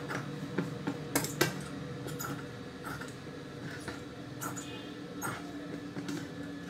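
Scissors cut blouse fabric into a round shape, giving faint, quiet snips and clicks spaced irregularly, with a few quick clusters of cuts.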